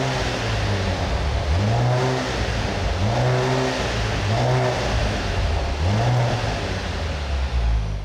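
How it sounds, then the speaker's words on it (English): A 2024 Mercedes-AMG GLC43 with a 416 hp turbocharged four-cylinder engine revs repeatedly through its quad exhaust pipes, rising and falling in pitch several times over a steady, loud, close rasp. "how does a 416 horsepower turbo 4-cylinder sound? Take a listen through this car's quad pipes"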